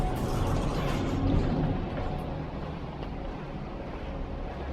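An old elevator cabin descends from the 26th to the 22nd floor, giving a steady, close rumbling hum with a windy, rushing quality that holds evenly throughout, with no talking.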